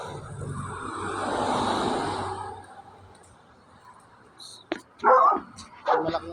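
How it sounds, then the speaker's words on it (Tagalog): A big dog barks several times in short bursts near the end, after a stretch of busy background noise and muffled chatter. "Malaking aso pa"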